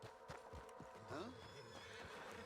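A horse in the video game Red Dead Redemption 2 gives a short whinny midway, with hoof clip-clops and scattered game sounds around it while someone talks over parts of the scene.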